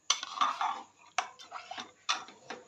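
Barnyard millet being stirred into hot water in a metal pot, heard as three bursts of spoon scraping and clinking against the pot, close and clear with no talk.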